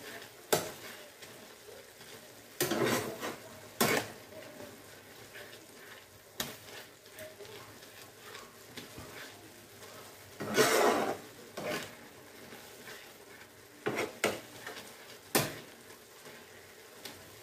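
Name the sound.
stirring and frying spicy ramen noodles in a pan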